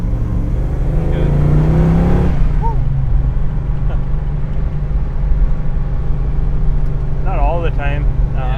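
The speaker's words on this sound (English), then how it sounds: "So now it actually gets on the highway and drives like a normal car" A classic 1960s car rumbles along the highway with a steady engine drone and road noise, while people talk over it inside the cabin.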